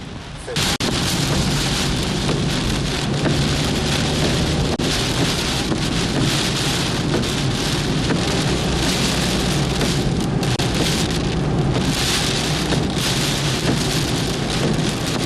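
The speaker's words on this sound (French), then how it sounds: "Là ça reclaque, et puis ça tombe bien, mais c'est un orage vicieux." A violent thunderstorm with a tornado pours heavy rain in a dense, loud, unbroken roar, with rumbles of thunder and gusts of wind buffeting the microphone from start to finish.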